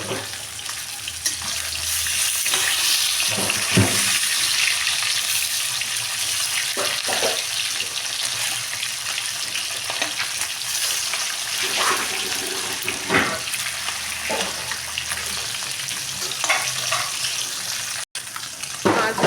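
Katla fish pieces fry in hot oil on their second side, giving a steady, dense sizzle that runs the whole time with small crackling bursts rising out of it.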